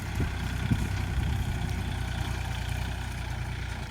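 A farm tractor's engine runs at idle, a steady low rumble with a constant drone and faint knocks near the start, holding at an even moderate level throughout.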